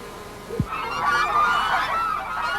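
Geese on a cotton farm honk, a rising group of calls that holds for a couple of seconds at moderate distance over steady outdoor background noise.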